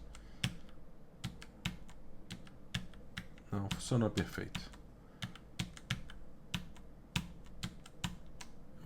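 Computer keyboard keys tapped in short irregular bursts during a snake game on a keyboard with a faulty contact, close and crisp, with a person speaking briefly over the clicks.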